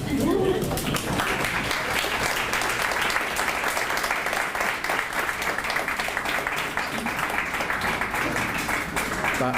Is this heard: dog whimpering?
no